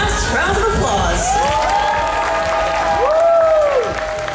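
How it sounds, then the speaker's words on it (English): Loud, sustained audience applause with cheering and children's shouts fills an outdoor dolphin show at Gulf World in Panama City Beach, steady throughout, with a whistle-like tone sliding above the crowd. "let's give them one last round of applause"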